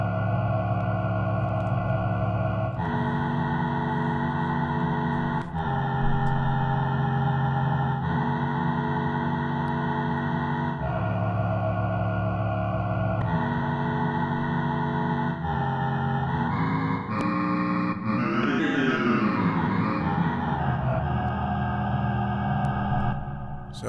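A single-layer sinister patch plays on an FRMS granular synthesizer, with dense, droning sustained tones shifting pitch in steps and then sliding into a wavering sweep. It stays loud and continuous throughout, with wide stereo spread and no talk.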